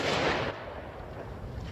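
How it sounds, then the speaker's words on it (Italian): Tyres on parked buses burst in a fire at Piazzola sul Brenta: a loud, booming blast opens, then drops into a sustained rumbling roar. "A innescare quelle che sono sembrate delle esplosioni, lo scoppio di alcuni pneumatici degli autobus parcheggiati"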